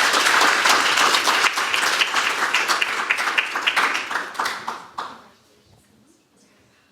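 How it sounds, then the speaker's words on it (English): Audience at a graduation event breaks into loud applause, dense clapping for about five seconds before it tapers off and fades to near silence. "Nice round of applause."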